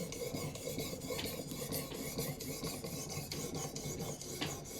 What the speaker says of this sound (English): And back to sharpening.